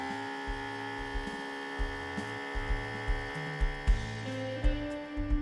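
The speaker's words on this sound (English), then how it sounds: "A comfortable humming sound remained, like a purring flute scat." A steady electrical hum drones on with layered tones, while faint low thumps pulse irregularly underneath.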